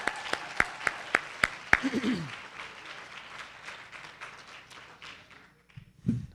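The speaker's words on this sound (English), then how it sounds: "big round of applause to James, the mastermind" Audience at a family school curriculum reveal event breaks into applause: a few sharp isolated claps first, then a fuller burst of clapping from the crowd that fades gradually, with a low thump near the end.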